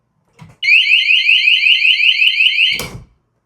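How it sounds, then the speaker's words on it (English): A tiny home security door alarm sounds one steady, loud electronic tone of about two seconds, starting sharply and cutting off cleanly, followed by a brief clunk of the door. "Let's simulate a security door alarm that goes off and stays on until you shut the door again."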